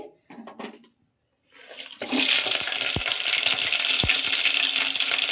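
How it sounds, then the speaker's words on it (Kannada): Spices for tempering drop into smoking-hot oil for a vegetable gravy: after a few quiet moments a loud, continuous sizzle bursts in and holds, broken by two dull knocks. "ಇವಾಗ ಸ್ವಲ್ಪ ಒಗ್ಗರಣೆ ಮಾಡ್ಕೊಂಬಿಡೋಣ"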